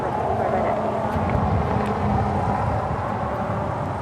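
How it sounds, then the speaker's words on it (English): An ANA Boeing 787-9 Dreamliner arriving at LAX from Tokyo Haneda makes a steady, broad rumble and roar, with wind buffeting the microphone throughout. "Next arrival on the north side is On Nippon Airways, the ANA Future Promise delivery coming in from Tokyo."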